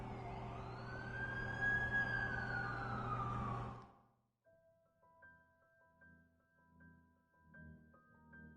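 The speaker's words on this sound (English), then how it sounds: "That's the ambulance I called." An ambulance siren wails loudly nearby for a few seconds, then cuts off and gives way to a quiet electronic tune.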